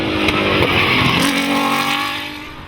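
A Mitsubishi Lancer GSR Evo X rally car races at a British cross country championship round at Radnor, its loud engine roaring steadily close by with a brief tyre squeal, fading slightly at the end.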